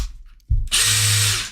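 A cordless two-speed drill and impact driver kit drill, running at high speed: a soft click and a low thump, then the motor whirs up into a loud, steady, high-pitched whine held close by.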